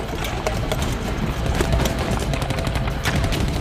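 Gunfire from a German MP-40 machine pistol, rapid scattered cracks and bursts repeating throughout a busy wartime battle scene, with shots landing all around at moderate loudness.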